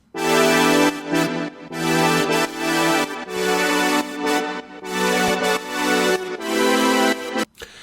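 Thick sustained synth pads, a deep low layer under a bright high one, playing long chords that stop and restart in several blocks.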